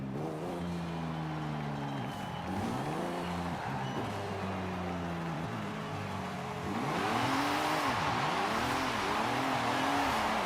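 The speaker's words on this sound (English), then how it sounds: "That guy, look at him just doing the burnouts." A car in Forza Horizon 5 doing burnouts: engine revs rise and fall in repeated sweeping surges, with tire squeal and a rougher, louder roaring spin near the end, with no voices.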